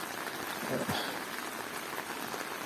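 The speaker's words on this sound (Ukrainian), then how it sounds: "бачите, дощик. І він прямо такий добрий спустився" Heavy warm rain falls outdoors near greenhouses, a steady dense hiss of drops on surfaces with faint voices underneath.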